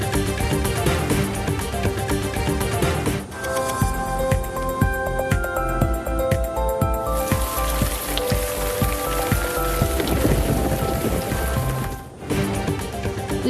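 Steady heavy rain falls across Punjab, including Lahore, a dense continuous patter on surfaces that runs unbroken through the whole stretch with no voices.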